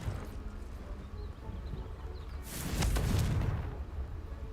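Confringo blasting spell cast in the video game Hogwarts Legacy, a sudden loud explosive blast with a crackling, rumbling burst that swells and fades over about a second amid low game ambience.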